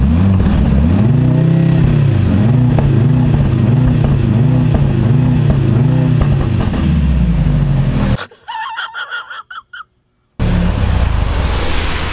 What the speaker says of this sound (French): c'est le son du 4 cylindres